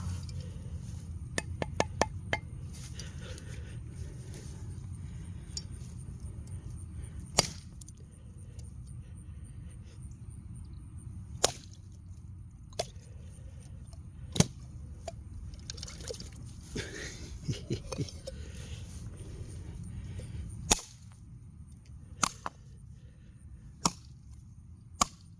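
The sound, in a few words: blade chopping into a coconut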